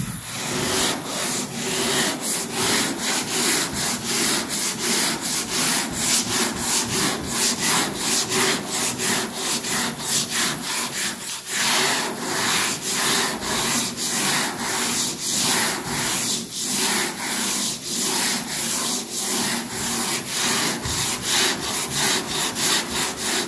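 Sandpaper rubbed by hand over primer on a Richard Petty truck, a loud, continuous rasping in fast, even back-and-forth strokes, close up and steady for a long stretch with no voices.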